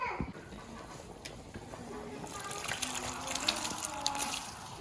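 A bucket of water gushes onto soaked rice in a steady, moderately loud pour lasting several seconds, with voices murmuring faintly underneath.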